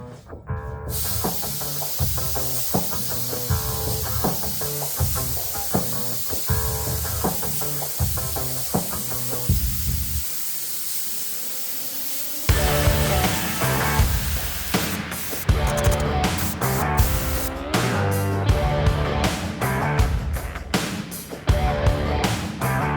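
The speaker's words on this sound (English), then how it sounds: "I'm just going to go straight into spraying color." Black sealer is sprayed onto an old bathroom cabinet in short, rhythmic bursts of loud hissing. The bursts stop for a moment partway through, then resume more densely.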